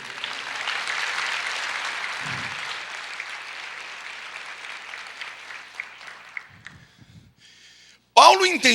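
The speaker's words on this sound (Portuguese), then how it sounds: "Glória a Deus, você pode aplaudir o Senhor?" A church congregation applauds in a long, even wash of clapping that gradually fades out, followed by a brief burst of louder sound at the end.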